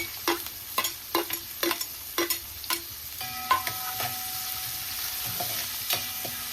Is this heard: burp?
no